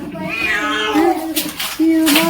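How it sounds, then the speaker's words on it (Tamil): A small kitten rescued from a well meows loudly and repeatedly in drawn-out, wavering cries, close to the microphone, with a person's voice faintly underneath. "சின்ன பூனை குட்டி பூனை"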